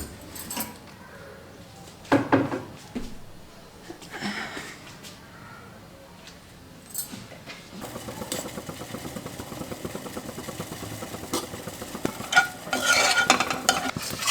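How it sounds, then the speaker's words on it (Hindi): Almonds shallow frying in a little ghee give a steady, moderate sizzle, broken by clinks and scrapes of stirring that grow busier and louder in the second half. "थोड़े से इनको मैं फ्राई कर लेती हूँ, मतलब सैलो फ्राई कर लेती हूँ थोड़ा सा घी के अंदर।"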